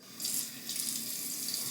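Tap water runs steadily into a sink to add to Coate's shaving cream, a continuous close hiss and splash with no talk.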